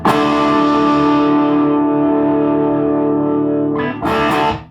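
A heavily distorted electric guitar chord through a Mythos Herculean pedal rings out loud and sustained, then a couple of quick strums cut in before it stops.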